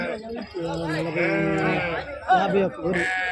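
Sheep bleat loudly and repeatedly close by at the Gudur sheep market, with wavering drawn-out cries of ewes and lambs overlapping each other amid busy outdoor noise.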